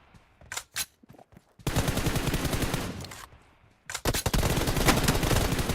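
Video game gunfire while landing headshots: a few sharp isolated shots, then two long, loud bursts of rapid automatic fire, with no speech.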